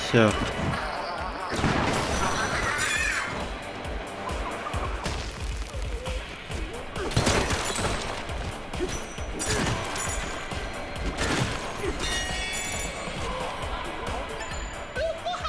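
Repeated heavy crashes and smashing impacts thud through a busy Donkey Kong Bananza game soundscape as an object is demolished, with bursts of loud destruction scattered across the whole stretch.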